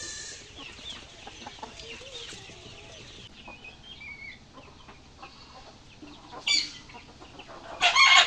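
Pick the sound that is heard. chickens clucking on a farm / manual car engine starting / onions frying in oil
chickens clucking on a farm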